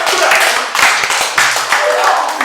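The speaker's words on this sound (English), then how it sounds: "applause, please." An audience at a community session claps for its host. The dense clapping arrives in several uneven surges, loud and close, with a faint voice briefly underneath.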